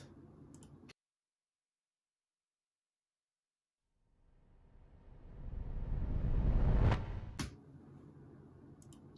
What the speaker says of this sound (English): A very simple noise sweep.